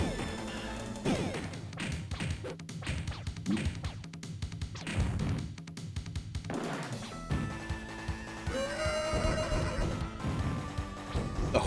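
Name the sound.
horse neigh sound effect from video game TMNT Turtles in Time arcade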